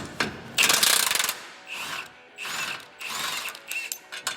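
A hand ratchet works a subframe bolt loose on a 2023 Honda Pilot being fitted with a lift kit, loud close clicking bursts in three or four separate spells with short pauses between.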